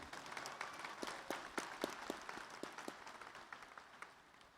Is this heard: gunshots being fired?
no